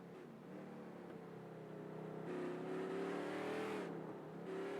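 Street stock race car in a racing video game accelerating through the infield on a warm-up lap, its engine droning steadily and climbing in pitch as it gathers speed, close and continuous.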